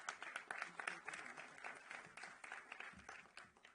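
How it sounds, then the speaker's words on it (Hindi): Audience applause at a public event in Delhi, a dense crowd clapping steadily and fairly faint throughout, with no talk over it. "तालियां जोरदार बजें"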